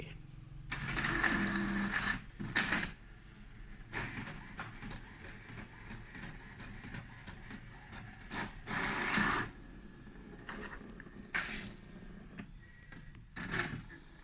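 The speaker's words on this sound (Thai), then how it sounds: "อันนี้ใช้เครื่องปริ้นนะครับ แล้วก็โหมดของ Copy นะครับ" An office printer running in copy mode prints a logo, giving repeated mechanical whirring passes with clicks and bursts of motor noise between quieter stretches, fairly close and alone without talk.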